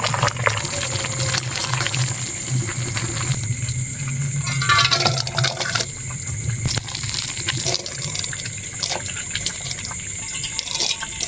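Rice boils in a pot for jeera rice, a steady rolling bubble and hiss that continues throughout, close and fairly loud, with occasional light clinks.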